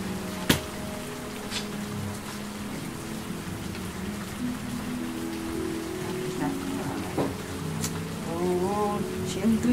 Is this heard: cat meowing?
no